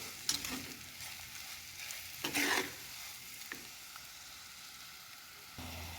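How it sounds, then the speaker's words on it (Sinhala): Sugar being stirred into Sri Lankan sugar sambol in a pan over low heat, giving soft scraping strokes and a light sizzle, with a brighter burst of stirring midway and no talk. "සීනි ටිකත් එකතු කරලා හොඳට කලවම් කරගමු අපි."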